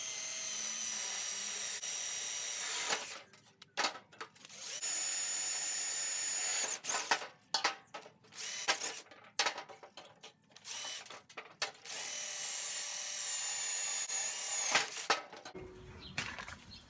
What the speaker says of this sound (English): If you have a good drill and drill bit,